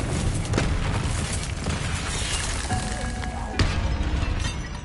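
A Confringo fire spell goes off in Hogwarts Legacy, a loud, dense explosive burst with shattering debris and a rumbling tail, plus a sharper crack near the end.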